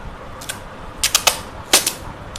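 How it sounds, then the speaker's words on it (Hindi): Adhesive tape is peeled in short crackling tugs off a plastic water gallon. Three or four close, sharp ripping bursts are spread across the quiet, with no talking. "तो यहाँ से मैं इसकी ये टेप उतार लेता हूँ।"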